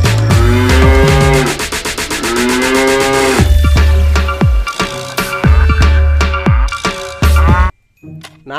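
A cow in an animal-hunting game moos loudly several times in a row, long drawn-out calls mixed with bright chiming and jingling game tones.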